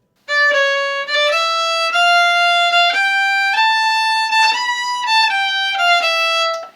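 A solo violin works through a fast-slow rhythm exercise from a song lesson, playing clear bowed notes in uneven short-long groupings that climb gradually, loud and close, with no talking.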